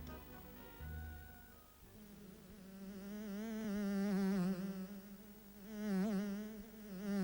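Steady droning buzz of honeybees building comb in a hive, rising and swelling in intensity, close by with no voices.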